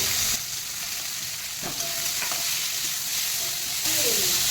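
Onions and green chillies frying in oil with asafoetida for a prawn and greens chorchori, a close, steady sizzle with a few light stirring knocks and scrapes.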